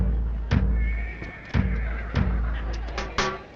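Horses whinny at an annual village horse market, a thin drawn-out neigh standing over steady crowd murmur, with several dull thuds and knocks at intervals.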